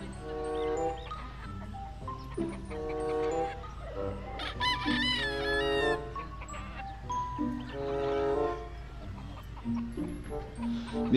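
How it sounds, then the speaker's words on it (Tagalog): Gamefowl roosters on a game farm cluck and crow repeatedly, with overlapping calls rising and falling at a moderate distance and no one talking. "Ito yung mga manok ni Sir Patrick Antonio."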